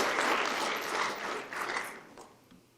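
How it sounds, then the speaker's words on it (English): Brief clapping from people gathered at a board of education meeting, a dense burst of applause that fades out within a few seconds. "Feel free to clap as they come up"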